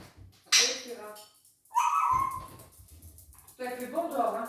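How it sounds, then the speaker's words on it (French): Small dog outside on a sunny terrace, barking and whining to be let back in, in short bursts separated by pauses, heard near but fairly quiet, with someone talking over it. "Attendez, j'ai mon chien qui aboie."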